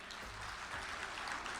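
Guests at a 30th anniversary reunion of a high school class applauding in a hall, a soft, distant and continuous wash of crowd clapping, with faint low murmuring underneath.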